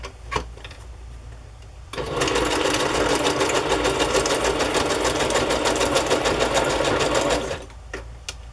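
A sewing machine stitches through patterned paper scraps and vintage photos, running in one steady, fast, rattling burst of about five and a half seconds, with quiet room tone before and after.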